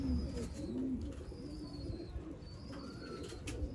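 A female Sialkoti slate-grey pigeon coos close by in a few low, rolling phrases, with faint chirps from other birds and a steady hum of background noise.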